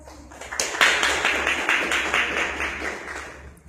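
An audience claps for a doctor about to give a talk on customs import and export procedures, a dense burst of applause from many hands that swells and then thins out over a few seconds.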